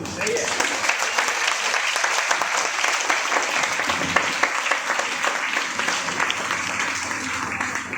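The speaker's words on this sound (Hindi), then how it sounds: "तो जितना हो सके तालियां बजाएं।" Sustained applause from a large audience at a motivational training event in Raipur, dense steady clapping filling the room at moderate volume for the whole stretch.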